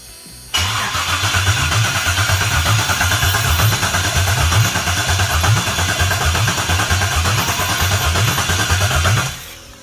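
An LS1 V8 engine sitting on the ground with no exhaust fitted cranks and fires up, then runs with a loud, raw, rapidly pulsing open-header rumble before shutting off.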